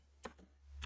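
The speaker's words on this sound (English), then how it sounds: "you can do it by typing" A few quick keystrokes on a computer keyboard, three isolated clicks spaced apart over a faint low hum, close and fairly quiet with no talking.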